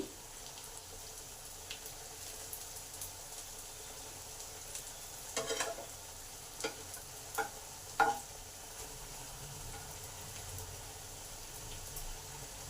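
Spiny gourd (kakrol) fries in a covered pan, giving a faint, steady sizzle with a few soft clicks and knocks and no voices.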